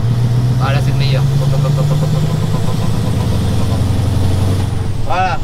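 A Scania V8 truck engine roars close and loud as it revs hard and holds, with a low throbbing rumble throughout and brief voices over it.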